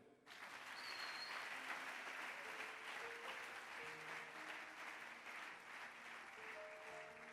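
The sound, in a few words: congregation applauding and acclaiming the Lord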